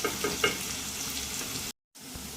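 Sliced onions and slit green chillies fry steadily in oil, a close broadband sizzle with a few light clinks early on, cut by a brief silence before the frying resumes.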